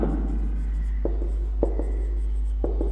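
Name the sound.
teacher writing words on the board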